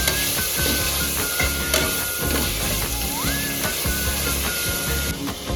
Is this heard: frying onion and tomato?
yes